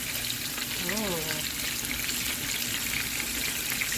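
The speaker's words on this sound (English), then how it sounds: "Sizzling away in that fat." Steady hiss of fish frying in hot fat fills the clip, a broad continuous sizzle with a brief tonal warble near the start.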